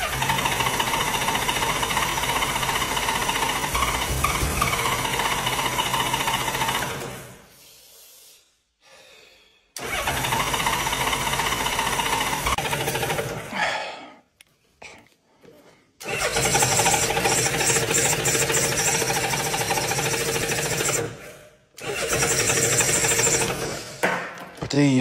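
A restored 1988 Honda Gold Wing motorcycle engine being cranked and fired, loud churning bursts of several seconds each separated by short silent pauses, repeated three times with a final attempt at the end.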